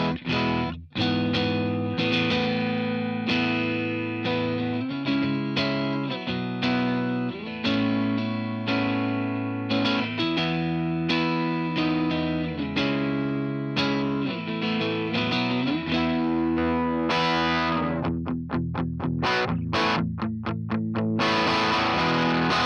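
Edge-of-breakup electric guitar through a Walrus Audio ACS1 MK II amp and cab simulator, lightly driven chords and riffs played steadily for over twenty seconds, loud and alone, ending in choppier strums.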